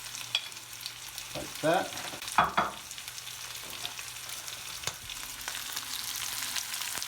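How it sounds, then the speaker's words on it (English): Chili and green onions frying in a pan for a gorgonzola cream spaghetti sauce, a steady close sizzle with brief stirring scrapes, while a voice speaks a few words over it. "the chili, and the green onions, the scallion. All goes in there now"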